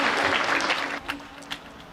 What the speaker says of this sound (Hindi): एक बार इसके सम्मान में जोरदार तालियां बजा दीजिए